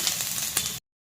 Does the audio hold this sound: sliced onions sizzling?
yes